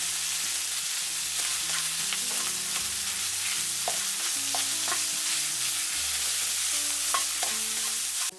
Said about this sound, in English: Briefly stir.